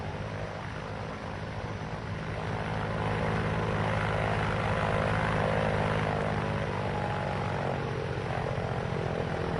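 Chance Vought F4U Corsair piston aircraft engine droning steadily and loudly throughout, a constant propeller roar with no talk over it.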